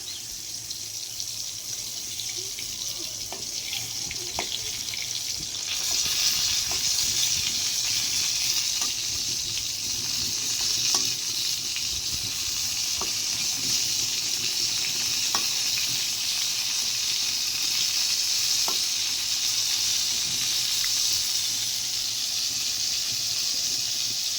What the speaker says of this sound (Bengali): কড়াইতে দিয়ে দিয়েছি সাদা তেল, পটলগুলো দিয়ে দিই।